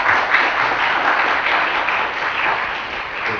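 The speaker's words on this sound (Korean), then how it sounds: "고생하신 두 분께 큰 박수 부탁드리겠습니다" Steady, loud audience applause at a student council election policy debate, a dense continuous wash of clapping for a few seconds with no talk.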